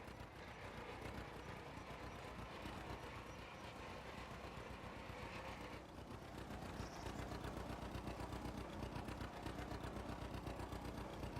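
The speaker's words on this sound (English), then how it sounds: "Don't y'all love the sound of that tractor?" A tractor engine idles in a farming video game, a steady, loud, continuous chugging drone with a faint rhythmic pulse and no speech over it.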